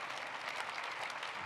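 Steady, distant applause from a conference audience, a brief even wash of many hands clapping for the organisers of a Goldschmidt geochemistry meeting.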